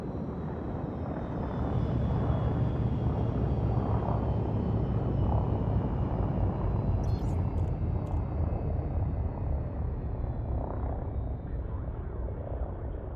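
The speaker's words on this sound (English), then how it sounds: "I'm going to be landing at the station or the colony ship to deliver titanium." A spaceship in the Elite video game sets down at a station, its engine roar a steady, loud broadband rumble that holds evenly throughout, with faint high chirps briefly near the middle.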